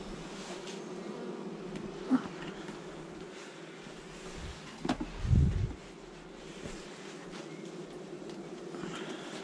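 Honeybees buzz faintly around an open hive during a colony inspection outdoors, a thin steady drone with a brief louder hum passing close by, with no speech.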